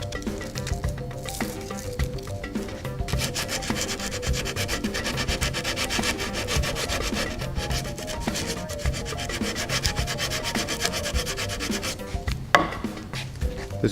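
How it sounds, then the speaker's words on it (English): A round rasp files a bicycle frame with continuous rough rubbing strokes. The scraping is steady and close, holds a fairly even rhythm for the full length, and has a small knock near the end. "I like to use this round rasp."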